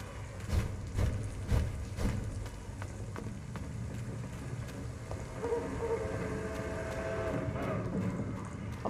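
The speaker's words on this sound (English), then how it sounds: "Almost sounded like a train." A low, continuous train-like rumble rolls through a Vampyr game scene, loud and steady for several seconds with faint clanks and swells, no voices over it.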